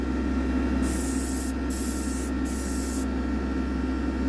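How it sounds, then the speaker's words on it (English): An airbrush sprays Kaleido Colorworks paint onto a diecast vehicle inside a spray booth, making a close, bright hiss in three short bursts over a steady low booth hum, with no talk. "I'm just checking the paint flow"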